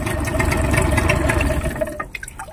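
A Yamaha 15 hp outboard motor with an overheating fault, its cooling water not flowing out, runs with a loud, steady low drone and a watery gurgle, then cuts out abruptly near the end, leaving a few faint drips and splashes.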